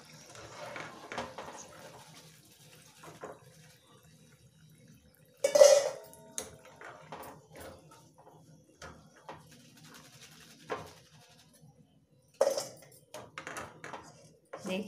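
Homemade fried kurkure snacks clatter crisply, sounding as sharp bursts near 5.5 s and 12.5 s and scattered lighter rattles in between, close and fairly quiet. There is no talk.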